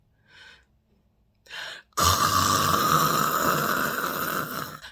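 A voice imitates loud snoring: brief breathy sounds, then a long, harsh, rasping snore that continues loudly to the end.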